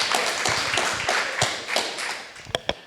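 A small audience gives a short round of applause, scattered individual claps that thin out quickly, ending in a few isolated sharp claps.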